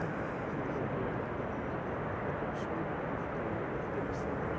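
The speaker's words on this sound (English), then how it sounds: "Adria Airways flight 108 arriving from Rome. It's an A321 Neo" An Adria Airways Airbus A321neo arriving from Rome lands at Amsterdam Schiphol, its engine roar a steady, broadband rumble that holds at constant loudness throughout.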